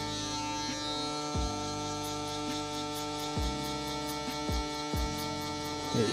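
Electric hair clipper fitted with a single guard, set to 1.5, buzzing steadily with a constant motor hum, with a few soft bumps where the blades pass through hair.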